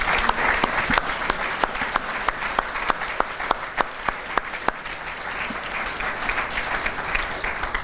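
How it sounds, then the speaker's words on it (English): A crowd at a civic day ceremony for students applauds steadily, with sharp individual claps standing out near the front, sustained throughout without speech. "how about a round of applause for those students and their counterparts?"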